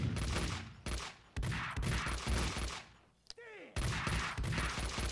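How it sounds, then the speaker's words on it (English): Rapid bursts of gunfire from an allied character in the video game Max Payne 2, dense volleys of shots repeating close and loud with a short gap between them. "Oh, yeah, my guy's shooting people."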